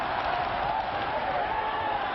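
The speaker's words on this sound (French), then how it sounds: "Un public qui applaudit." Crowd applause at a spectacular catch wrestling match, a steady wash of distant clapping and crowd noise, fairly faint and continuous.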